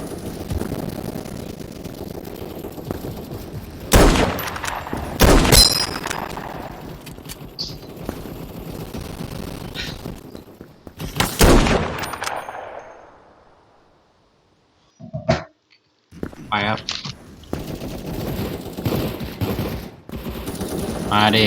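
Revolver gunfire in the online shooter Krunker.io, with loud bursts of rapid shots spread across the scene, broken by short pauses and a near-silent gap before the firing resumes.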